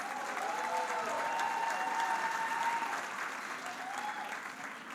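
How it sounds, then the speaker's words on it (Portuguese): Audience applause at a business lecture as a guest is welcomed onstage, a dense, sustained wash of clapping with faint cheers or voices threaded through, easing off slightly at the end. "Tamar, recebam as palmas."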